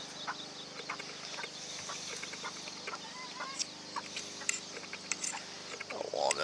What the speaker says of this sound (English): she's clucking to get them all back in now.